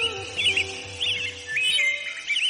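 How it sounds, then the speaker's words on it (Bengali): A bird gives loud, sharp chirping calls in short repeated bursts against a quiet background, with no talking. "কবুতরের চিৎকার শুনে টুনি, মিনু আর তার দুই কন্যা বাইরে বেরিয়ে আসে।"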